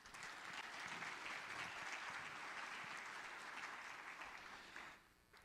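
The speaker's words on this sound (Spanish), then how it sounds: "pido un aplauso para todos ustedes primero" Steady, dense audience applause from a large crowd of school teachers at an education talk, sustained for about five seconds before tapering off.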